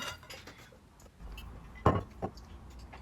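Yogurt, warm water and oil are stirred together in a bowl, with soft scraping and a couple of sharp utensil clinks against the bowl, faint and close, without talk.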